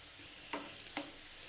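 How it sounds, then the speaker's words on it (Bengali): Banana pitha frying in a pan at medium heat, a faint, low, steady sizzle with two brief clicks from a spatula or pan. "এখন আমি এগুলাকে একটু মিডিয়াম আছে ভেজে নিচ্ছি"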